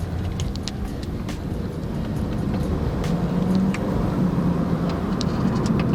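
A Skoda Octavia accelerates on the road, heard from inside as a steady, gradually building engine and road drone, close and continuous, with no talking.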